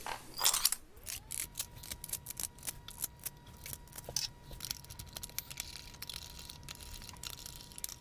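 Small screws snugged around the governor of a HITLIS installation, giving a steady run of close clicking, ratcheting mechanical ticks with no one talking.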